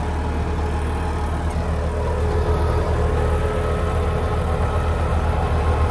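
A John Deere 5310 4WD tractor with a 2100 rated RPM engine, working with a Landforce super seeder, runs with a steady, low diesel drone, close and continuous, with no voices.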